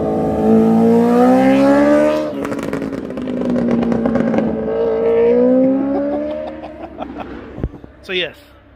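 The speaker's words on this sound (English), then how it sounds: "there's some bikes coming now" Motorcycles pass on a mountain road: a steady engine drone swells and shifts pitch as the bikes go by at moderate distance, under loud continuous talking.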